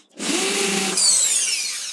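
A power drill bores a hole in an MDF wardrobe door: a sudden close whine starts, steadies, then shifts higher in pitch as the bit cuts through, loud and alone.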